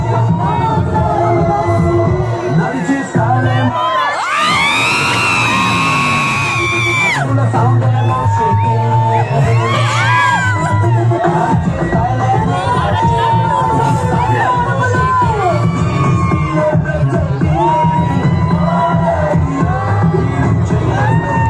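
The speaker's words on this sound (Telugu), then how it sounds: "కింగ్ నాగార్జున గారు ఎంట్రీ అవ్వగానే ఎన్ని అరుపులో ఎన్ని కేకలో" Loud crowd of fans cheering, whooping and yelling as King Nagarjuna makes his entry, a dense continuous roar with a sharp surge of shrill screams in the middle and excited shouts throughout.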